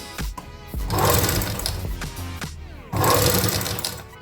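An electric motor fitted to a manual sewing machine runs in bursts as the foot pedal is pressed slowly, a close whirring with rapid stitching clatter that surges twice, with a brief lull between.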